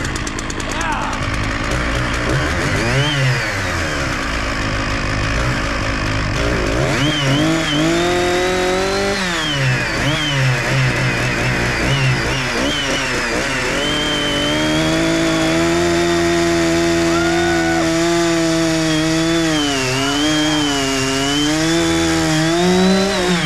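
At a sawmill, a 066 chainsaw runs close and loud throughout, its pitch rising and falling as the throttle is blipped and held, with the engine note staying strong and continuous.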